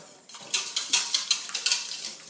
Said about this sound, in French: on va fouetter les œufs entiers dans le saladier